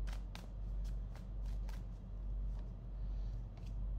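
Tarot cards are shuffled and drawn by hand at close range, a quiet series of crisp riffling flicks and soft slaps with no talk over them.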